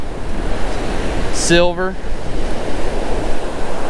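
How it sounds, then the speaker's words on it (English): Strong wind batters the microphone while rough ocean surf crashes on a beach, a dense, roaring wash of noise throughout; a voice speaks one brief word partway through. "On a really windy day like this, and rough surf"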